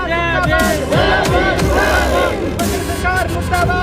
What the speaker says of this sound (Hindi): कैसे नाराबाजी लोग आपको लगातार करते हुए दिखाई दे रहे हैं